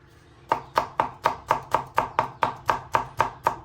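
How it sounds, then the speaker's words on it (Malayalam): A knife chops garlic finely on a board, with about a dozen sharp, evenly spaced taps in a quick, steady rhythm, close and clear with no talking. "കത്തിയോട് ഇതിങ്ങനെ ആക്കിയിട്ട് സ്പീഡിലങ്ങ് ചോപ്പ് ചെയ്ത് നോക്കണം"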